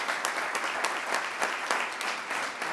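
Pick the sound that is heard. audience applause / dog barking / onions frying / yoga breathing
audience applause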